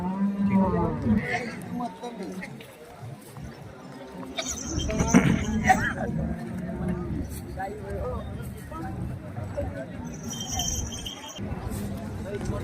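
Several low moos and lowing calls from cattle and bulls at the Salegaon bull market, amid a busy outdoor crowd, with people talking nearby throughout.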